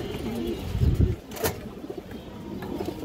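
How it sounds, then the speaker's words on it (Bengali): A large, old-line pigeon coos among a seller's pigeons: low, throaty coos close by, with one sharp knock partway through and faint background noise. "বিগ সাইজের একটা কবুতর মাশাআল্লাহ, একদম পুরোনো লাইনের কবুতর"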